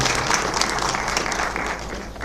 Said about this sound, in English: How about a round of applause for Alicia and Aaron?